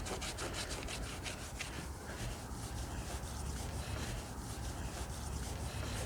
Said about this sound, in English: Just rub a little bit.